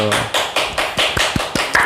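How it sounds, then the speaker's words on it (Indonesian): A few people clap their hands during a podcast in Kediri, a close, brisk series of about eight sharp claps in a steady rhythm, after a brief bit of speech at the start. "Tepuk tangan dulu"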